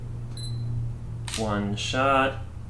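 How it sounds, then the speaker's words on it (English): A Sony a6500 mirrorless camera fires a single shutter release, a quick crisp double click standing out close and clear over a quiet room hum. "Your camera takes just one shot once your camera shutter is pressed down"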